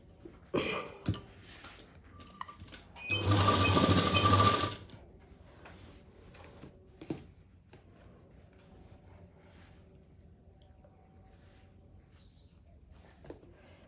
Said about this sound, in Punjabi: ਜਿਹੜੀ ਆਪਣੀ ਸਲਾਈ ਪਹਿਲਾਂ ਲੱਗੀ ਹੋਈ ਹੈ ਉਹਦੇ ਉੱਪਰ ਉੱਪਰ ਹੀ ਲਾਵਾਂਗੇ